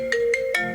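A mobile phone rings with three short repeated electronic tone bursts, loud and close, rising over steady background hum during work on building a concrete condenser pad.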